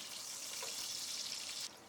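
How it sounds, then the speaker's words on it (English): Aubergines shallow-frying in oil in a pot for a sea bream curry give a steady, bright sizzling hiss that cuts off abruptly near the end. "Let them sizzle for 2 to 3 minutes,"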